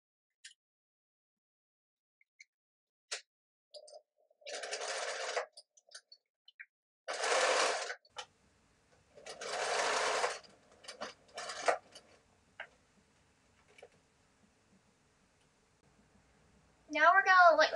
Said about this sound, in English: First, I gotta do a back tack here and down here.